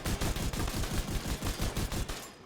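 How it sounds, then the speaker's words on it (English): Rapid automatic gunfire at a target in The Division 2, a dense, steady burst of sharp shots fired in quick succession for about two seconds before stopping. "So let's shoot this target and see what we can get."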